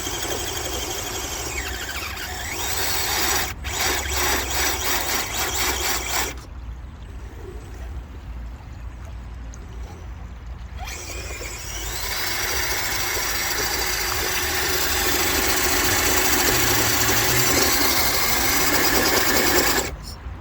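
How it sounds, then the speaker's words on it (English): An FTX Outback 3 Paso RC crawler driving up a bank, a loud, steady, whining electric motor with squealing gears that drops off briefly and then revs up again for a long push. "So we're going to have to get a bit of wheel speed and launch it up there."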